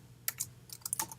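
Free-form typing on a computer keyboard while entering a printf line of C code, with irregular bursts of crisp key clicks, some doubled, fairly close but quiet and alone.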